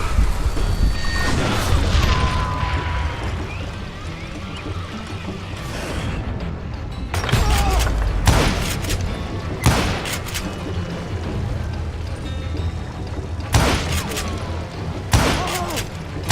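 Repeated dynamite blasts and gunfire from the Western shooter Call of Juarez: Gunslinger: several sharp, loud bursts at irregular intervals, each with a broadband crack and booming tail, over a constant rumbling game backdrop.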